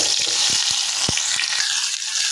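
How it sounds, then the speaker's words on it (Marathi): Chopped onion sizzles steadily in hot oil in a pan, a loud continuous hiss with a few soft knocks and stirs, no voices. "तेल छान गरम झालं की आपल्याला त्याच्यात कांदा टाकून घ्यायचा आहे."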